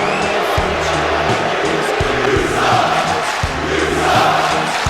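A loud wrestling event crowd roars and jeers unhappily, its noise rising and falling over pounding music.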